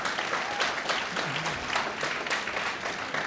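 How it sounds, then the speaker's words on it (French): Steady roomful of applause at a recognition gala, continuous clapping from a large audience filling the whole stretch at an even level. "une bonne main d'applaudissements, effectivement"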